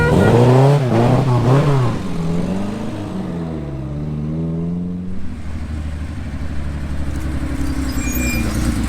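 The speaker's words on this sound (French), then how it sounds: "Une Corvette suivie d'une MG ici." A classic Corvette followed by an MG roar past on a Tour Auto 2020 historic rally stage. Engines rev and shift close by, then fade under a second car's approaching drone.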